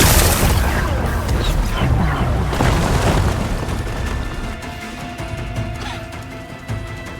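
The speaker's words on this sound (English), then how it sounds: "It's exploding" Explosions in the video game Horizon Forbidden West, a heavy rumbling roar with several booming bursts in the first few seconds that slowly fade into a lower, steadier game ambience with a faint tonal hum.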